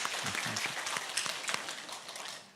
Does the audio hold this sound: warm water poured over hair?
no